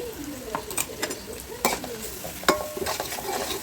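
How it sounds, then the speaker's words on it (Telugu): Onions and green chillies frying with ginger garlic paste for a chicken fry piece biryani; a close sizzle under repeated spoon scrapes and metallic clinks against the pot, several loud strokes standing out. "దీనిలో రెండు స్పూన్లు అల్లం వెల్లుల్లి పేస్ట్ వేసుకున్నాను ఇది పచ్చివాసన పోయే వరకు ఫ్రై చేసుకోవాలి"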